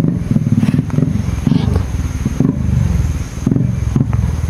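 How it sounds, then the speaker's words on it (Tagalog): A Honda XRM motorcycle engine running close by, with a loud, throbbing idle broken by repeated short revs and a light mechanical clatter. "Sakay sila ng isang XRM na motor mga idol"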